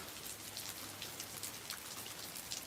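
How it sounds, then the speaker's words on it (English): Steady rain falls during a storm rain band in Alabama amid tornado activity, a dense continuous hiss of drops striking surfaces with no speech. "It's raining right now."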